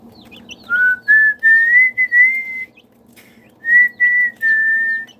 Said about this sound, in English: I was whistling to him.